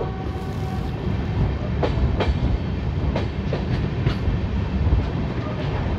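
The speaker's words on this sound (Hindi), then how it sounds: "हमारी ट्रेन जो है वो भोजीपुरा वाली लाइन पर आगे बढ़ते हुए" Lalkuan–Howrah passenger train running along the line toward Bhojipura, a steady loud rumble of wheels and carriages with periodic rhythmic clicks over rail joints, heard from on board.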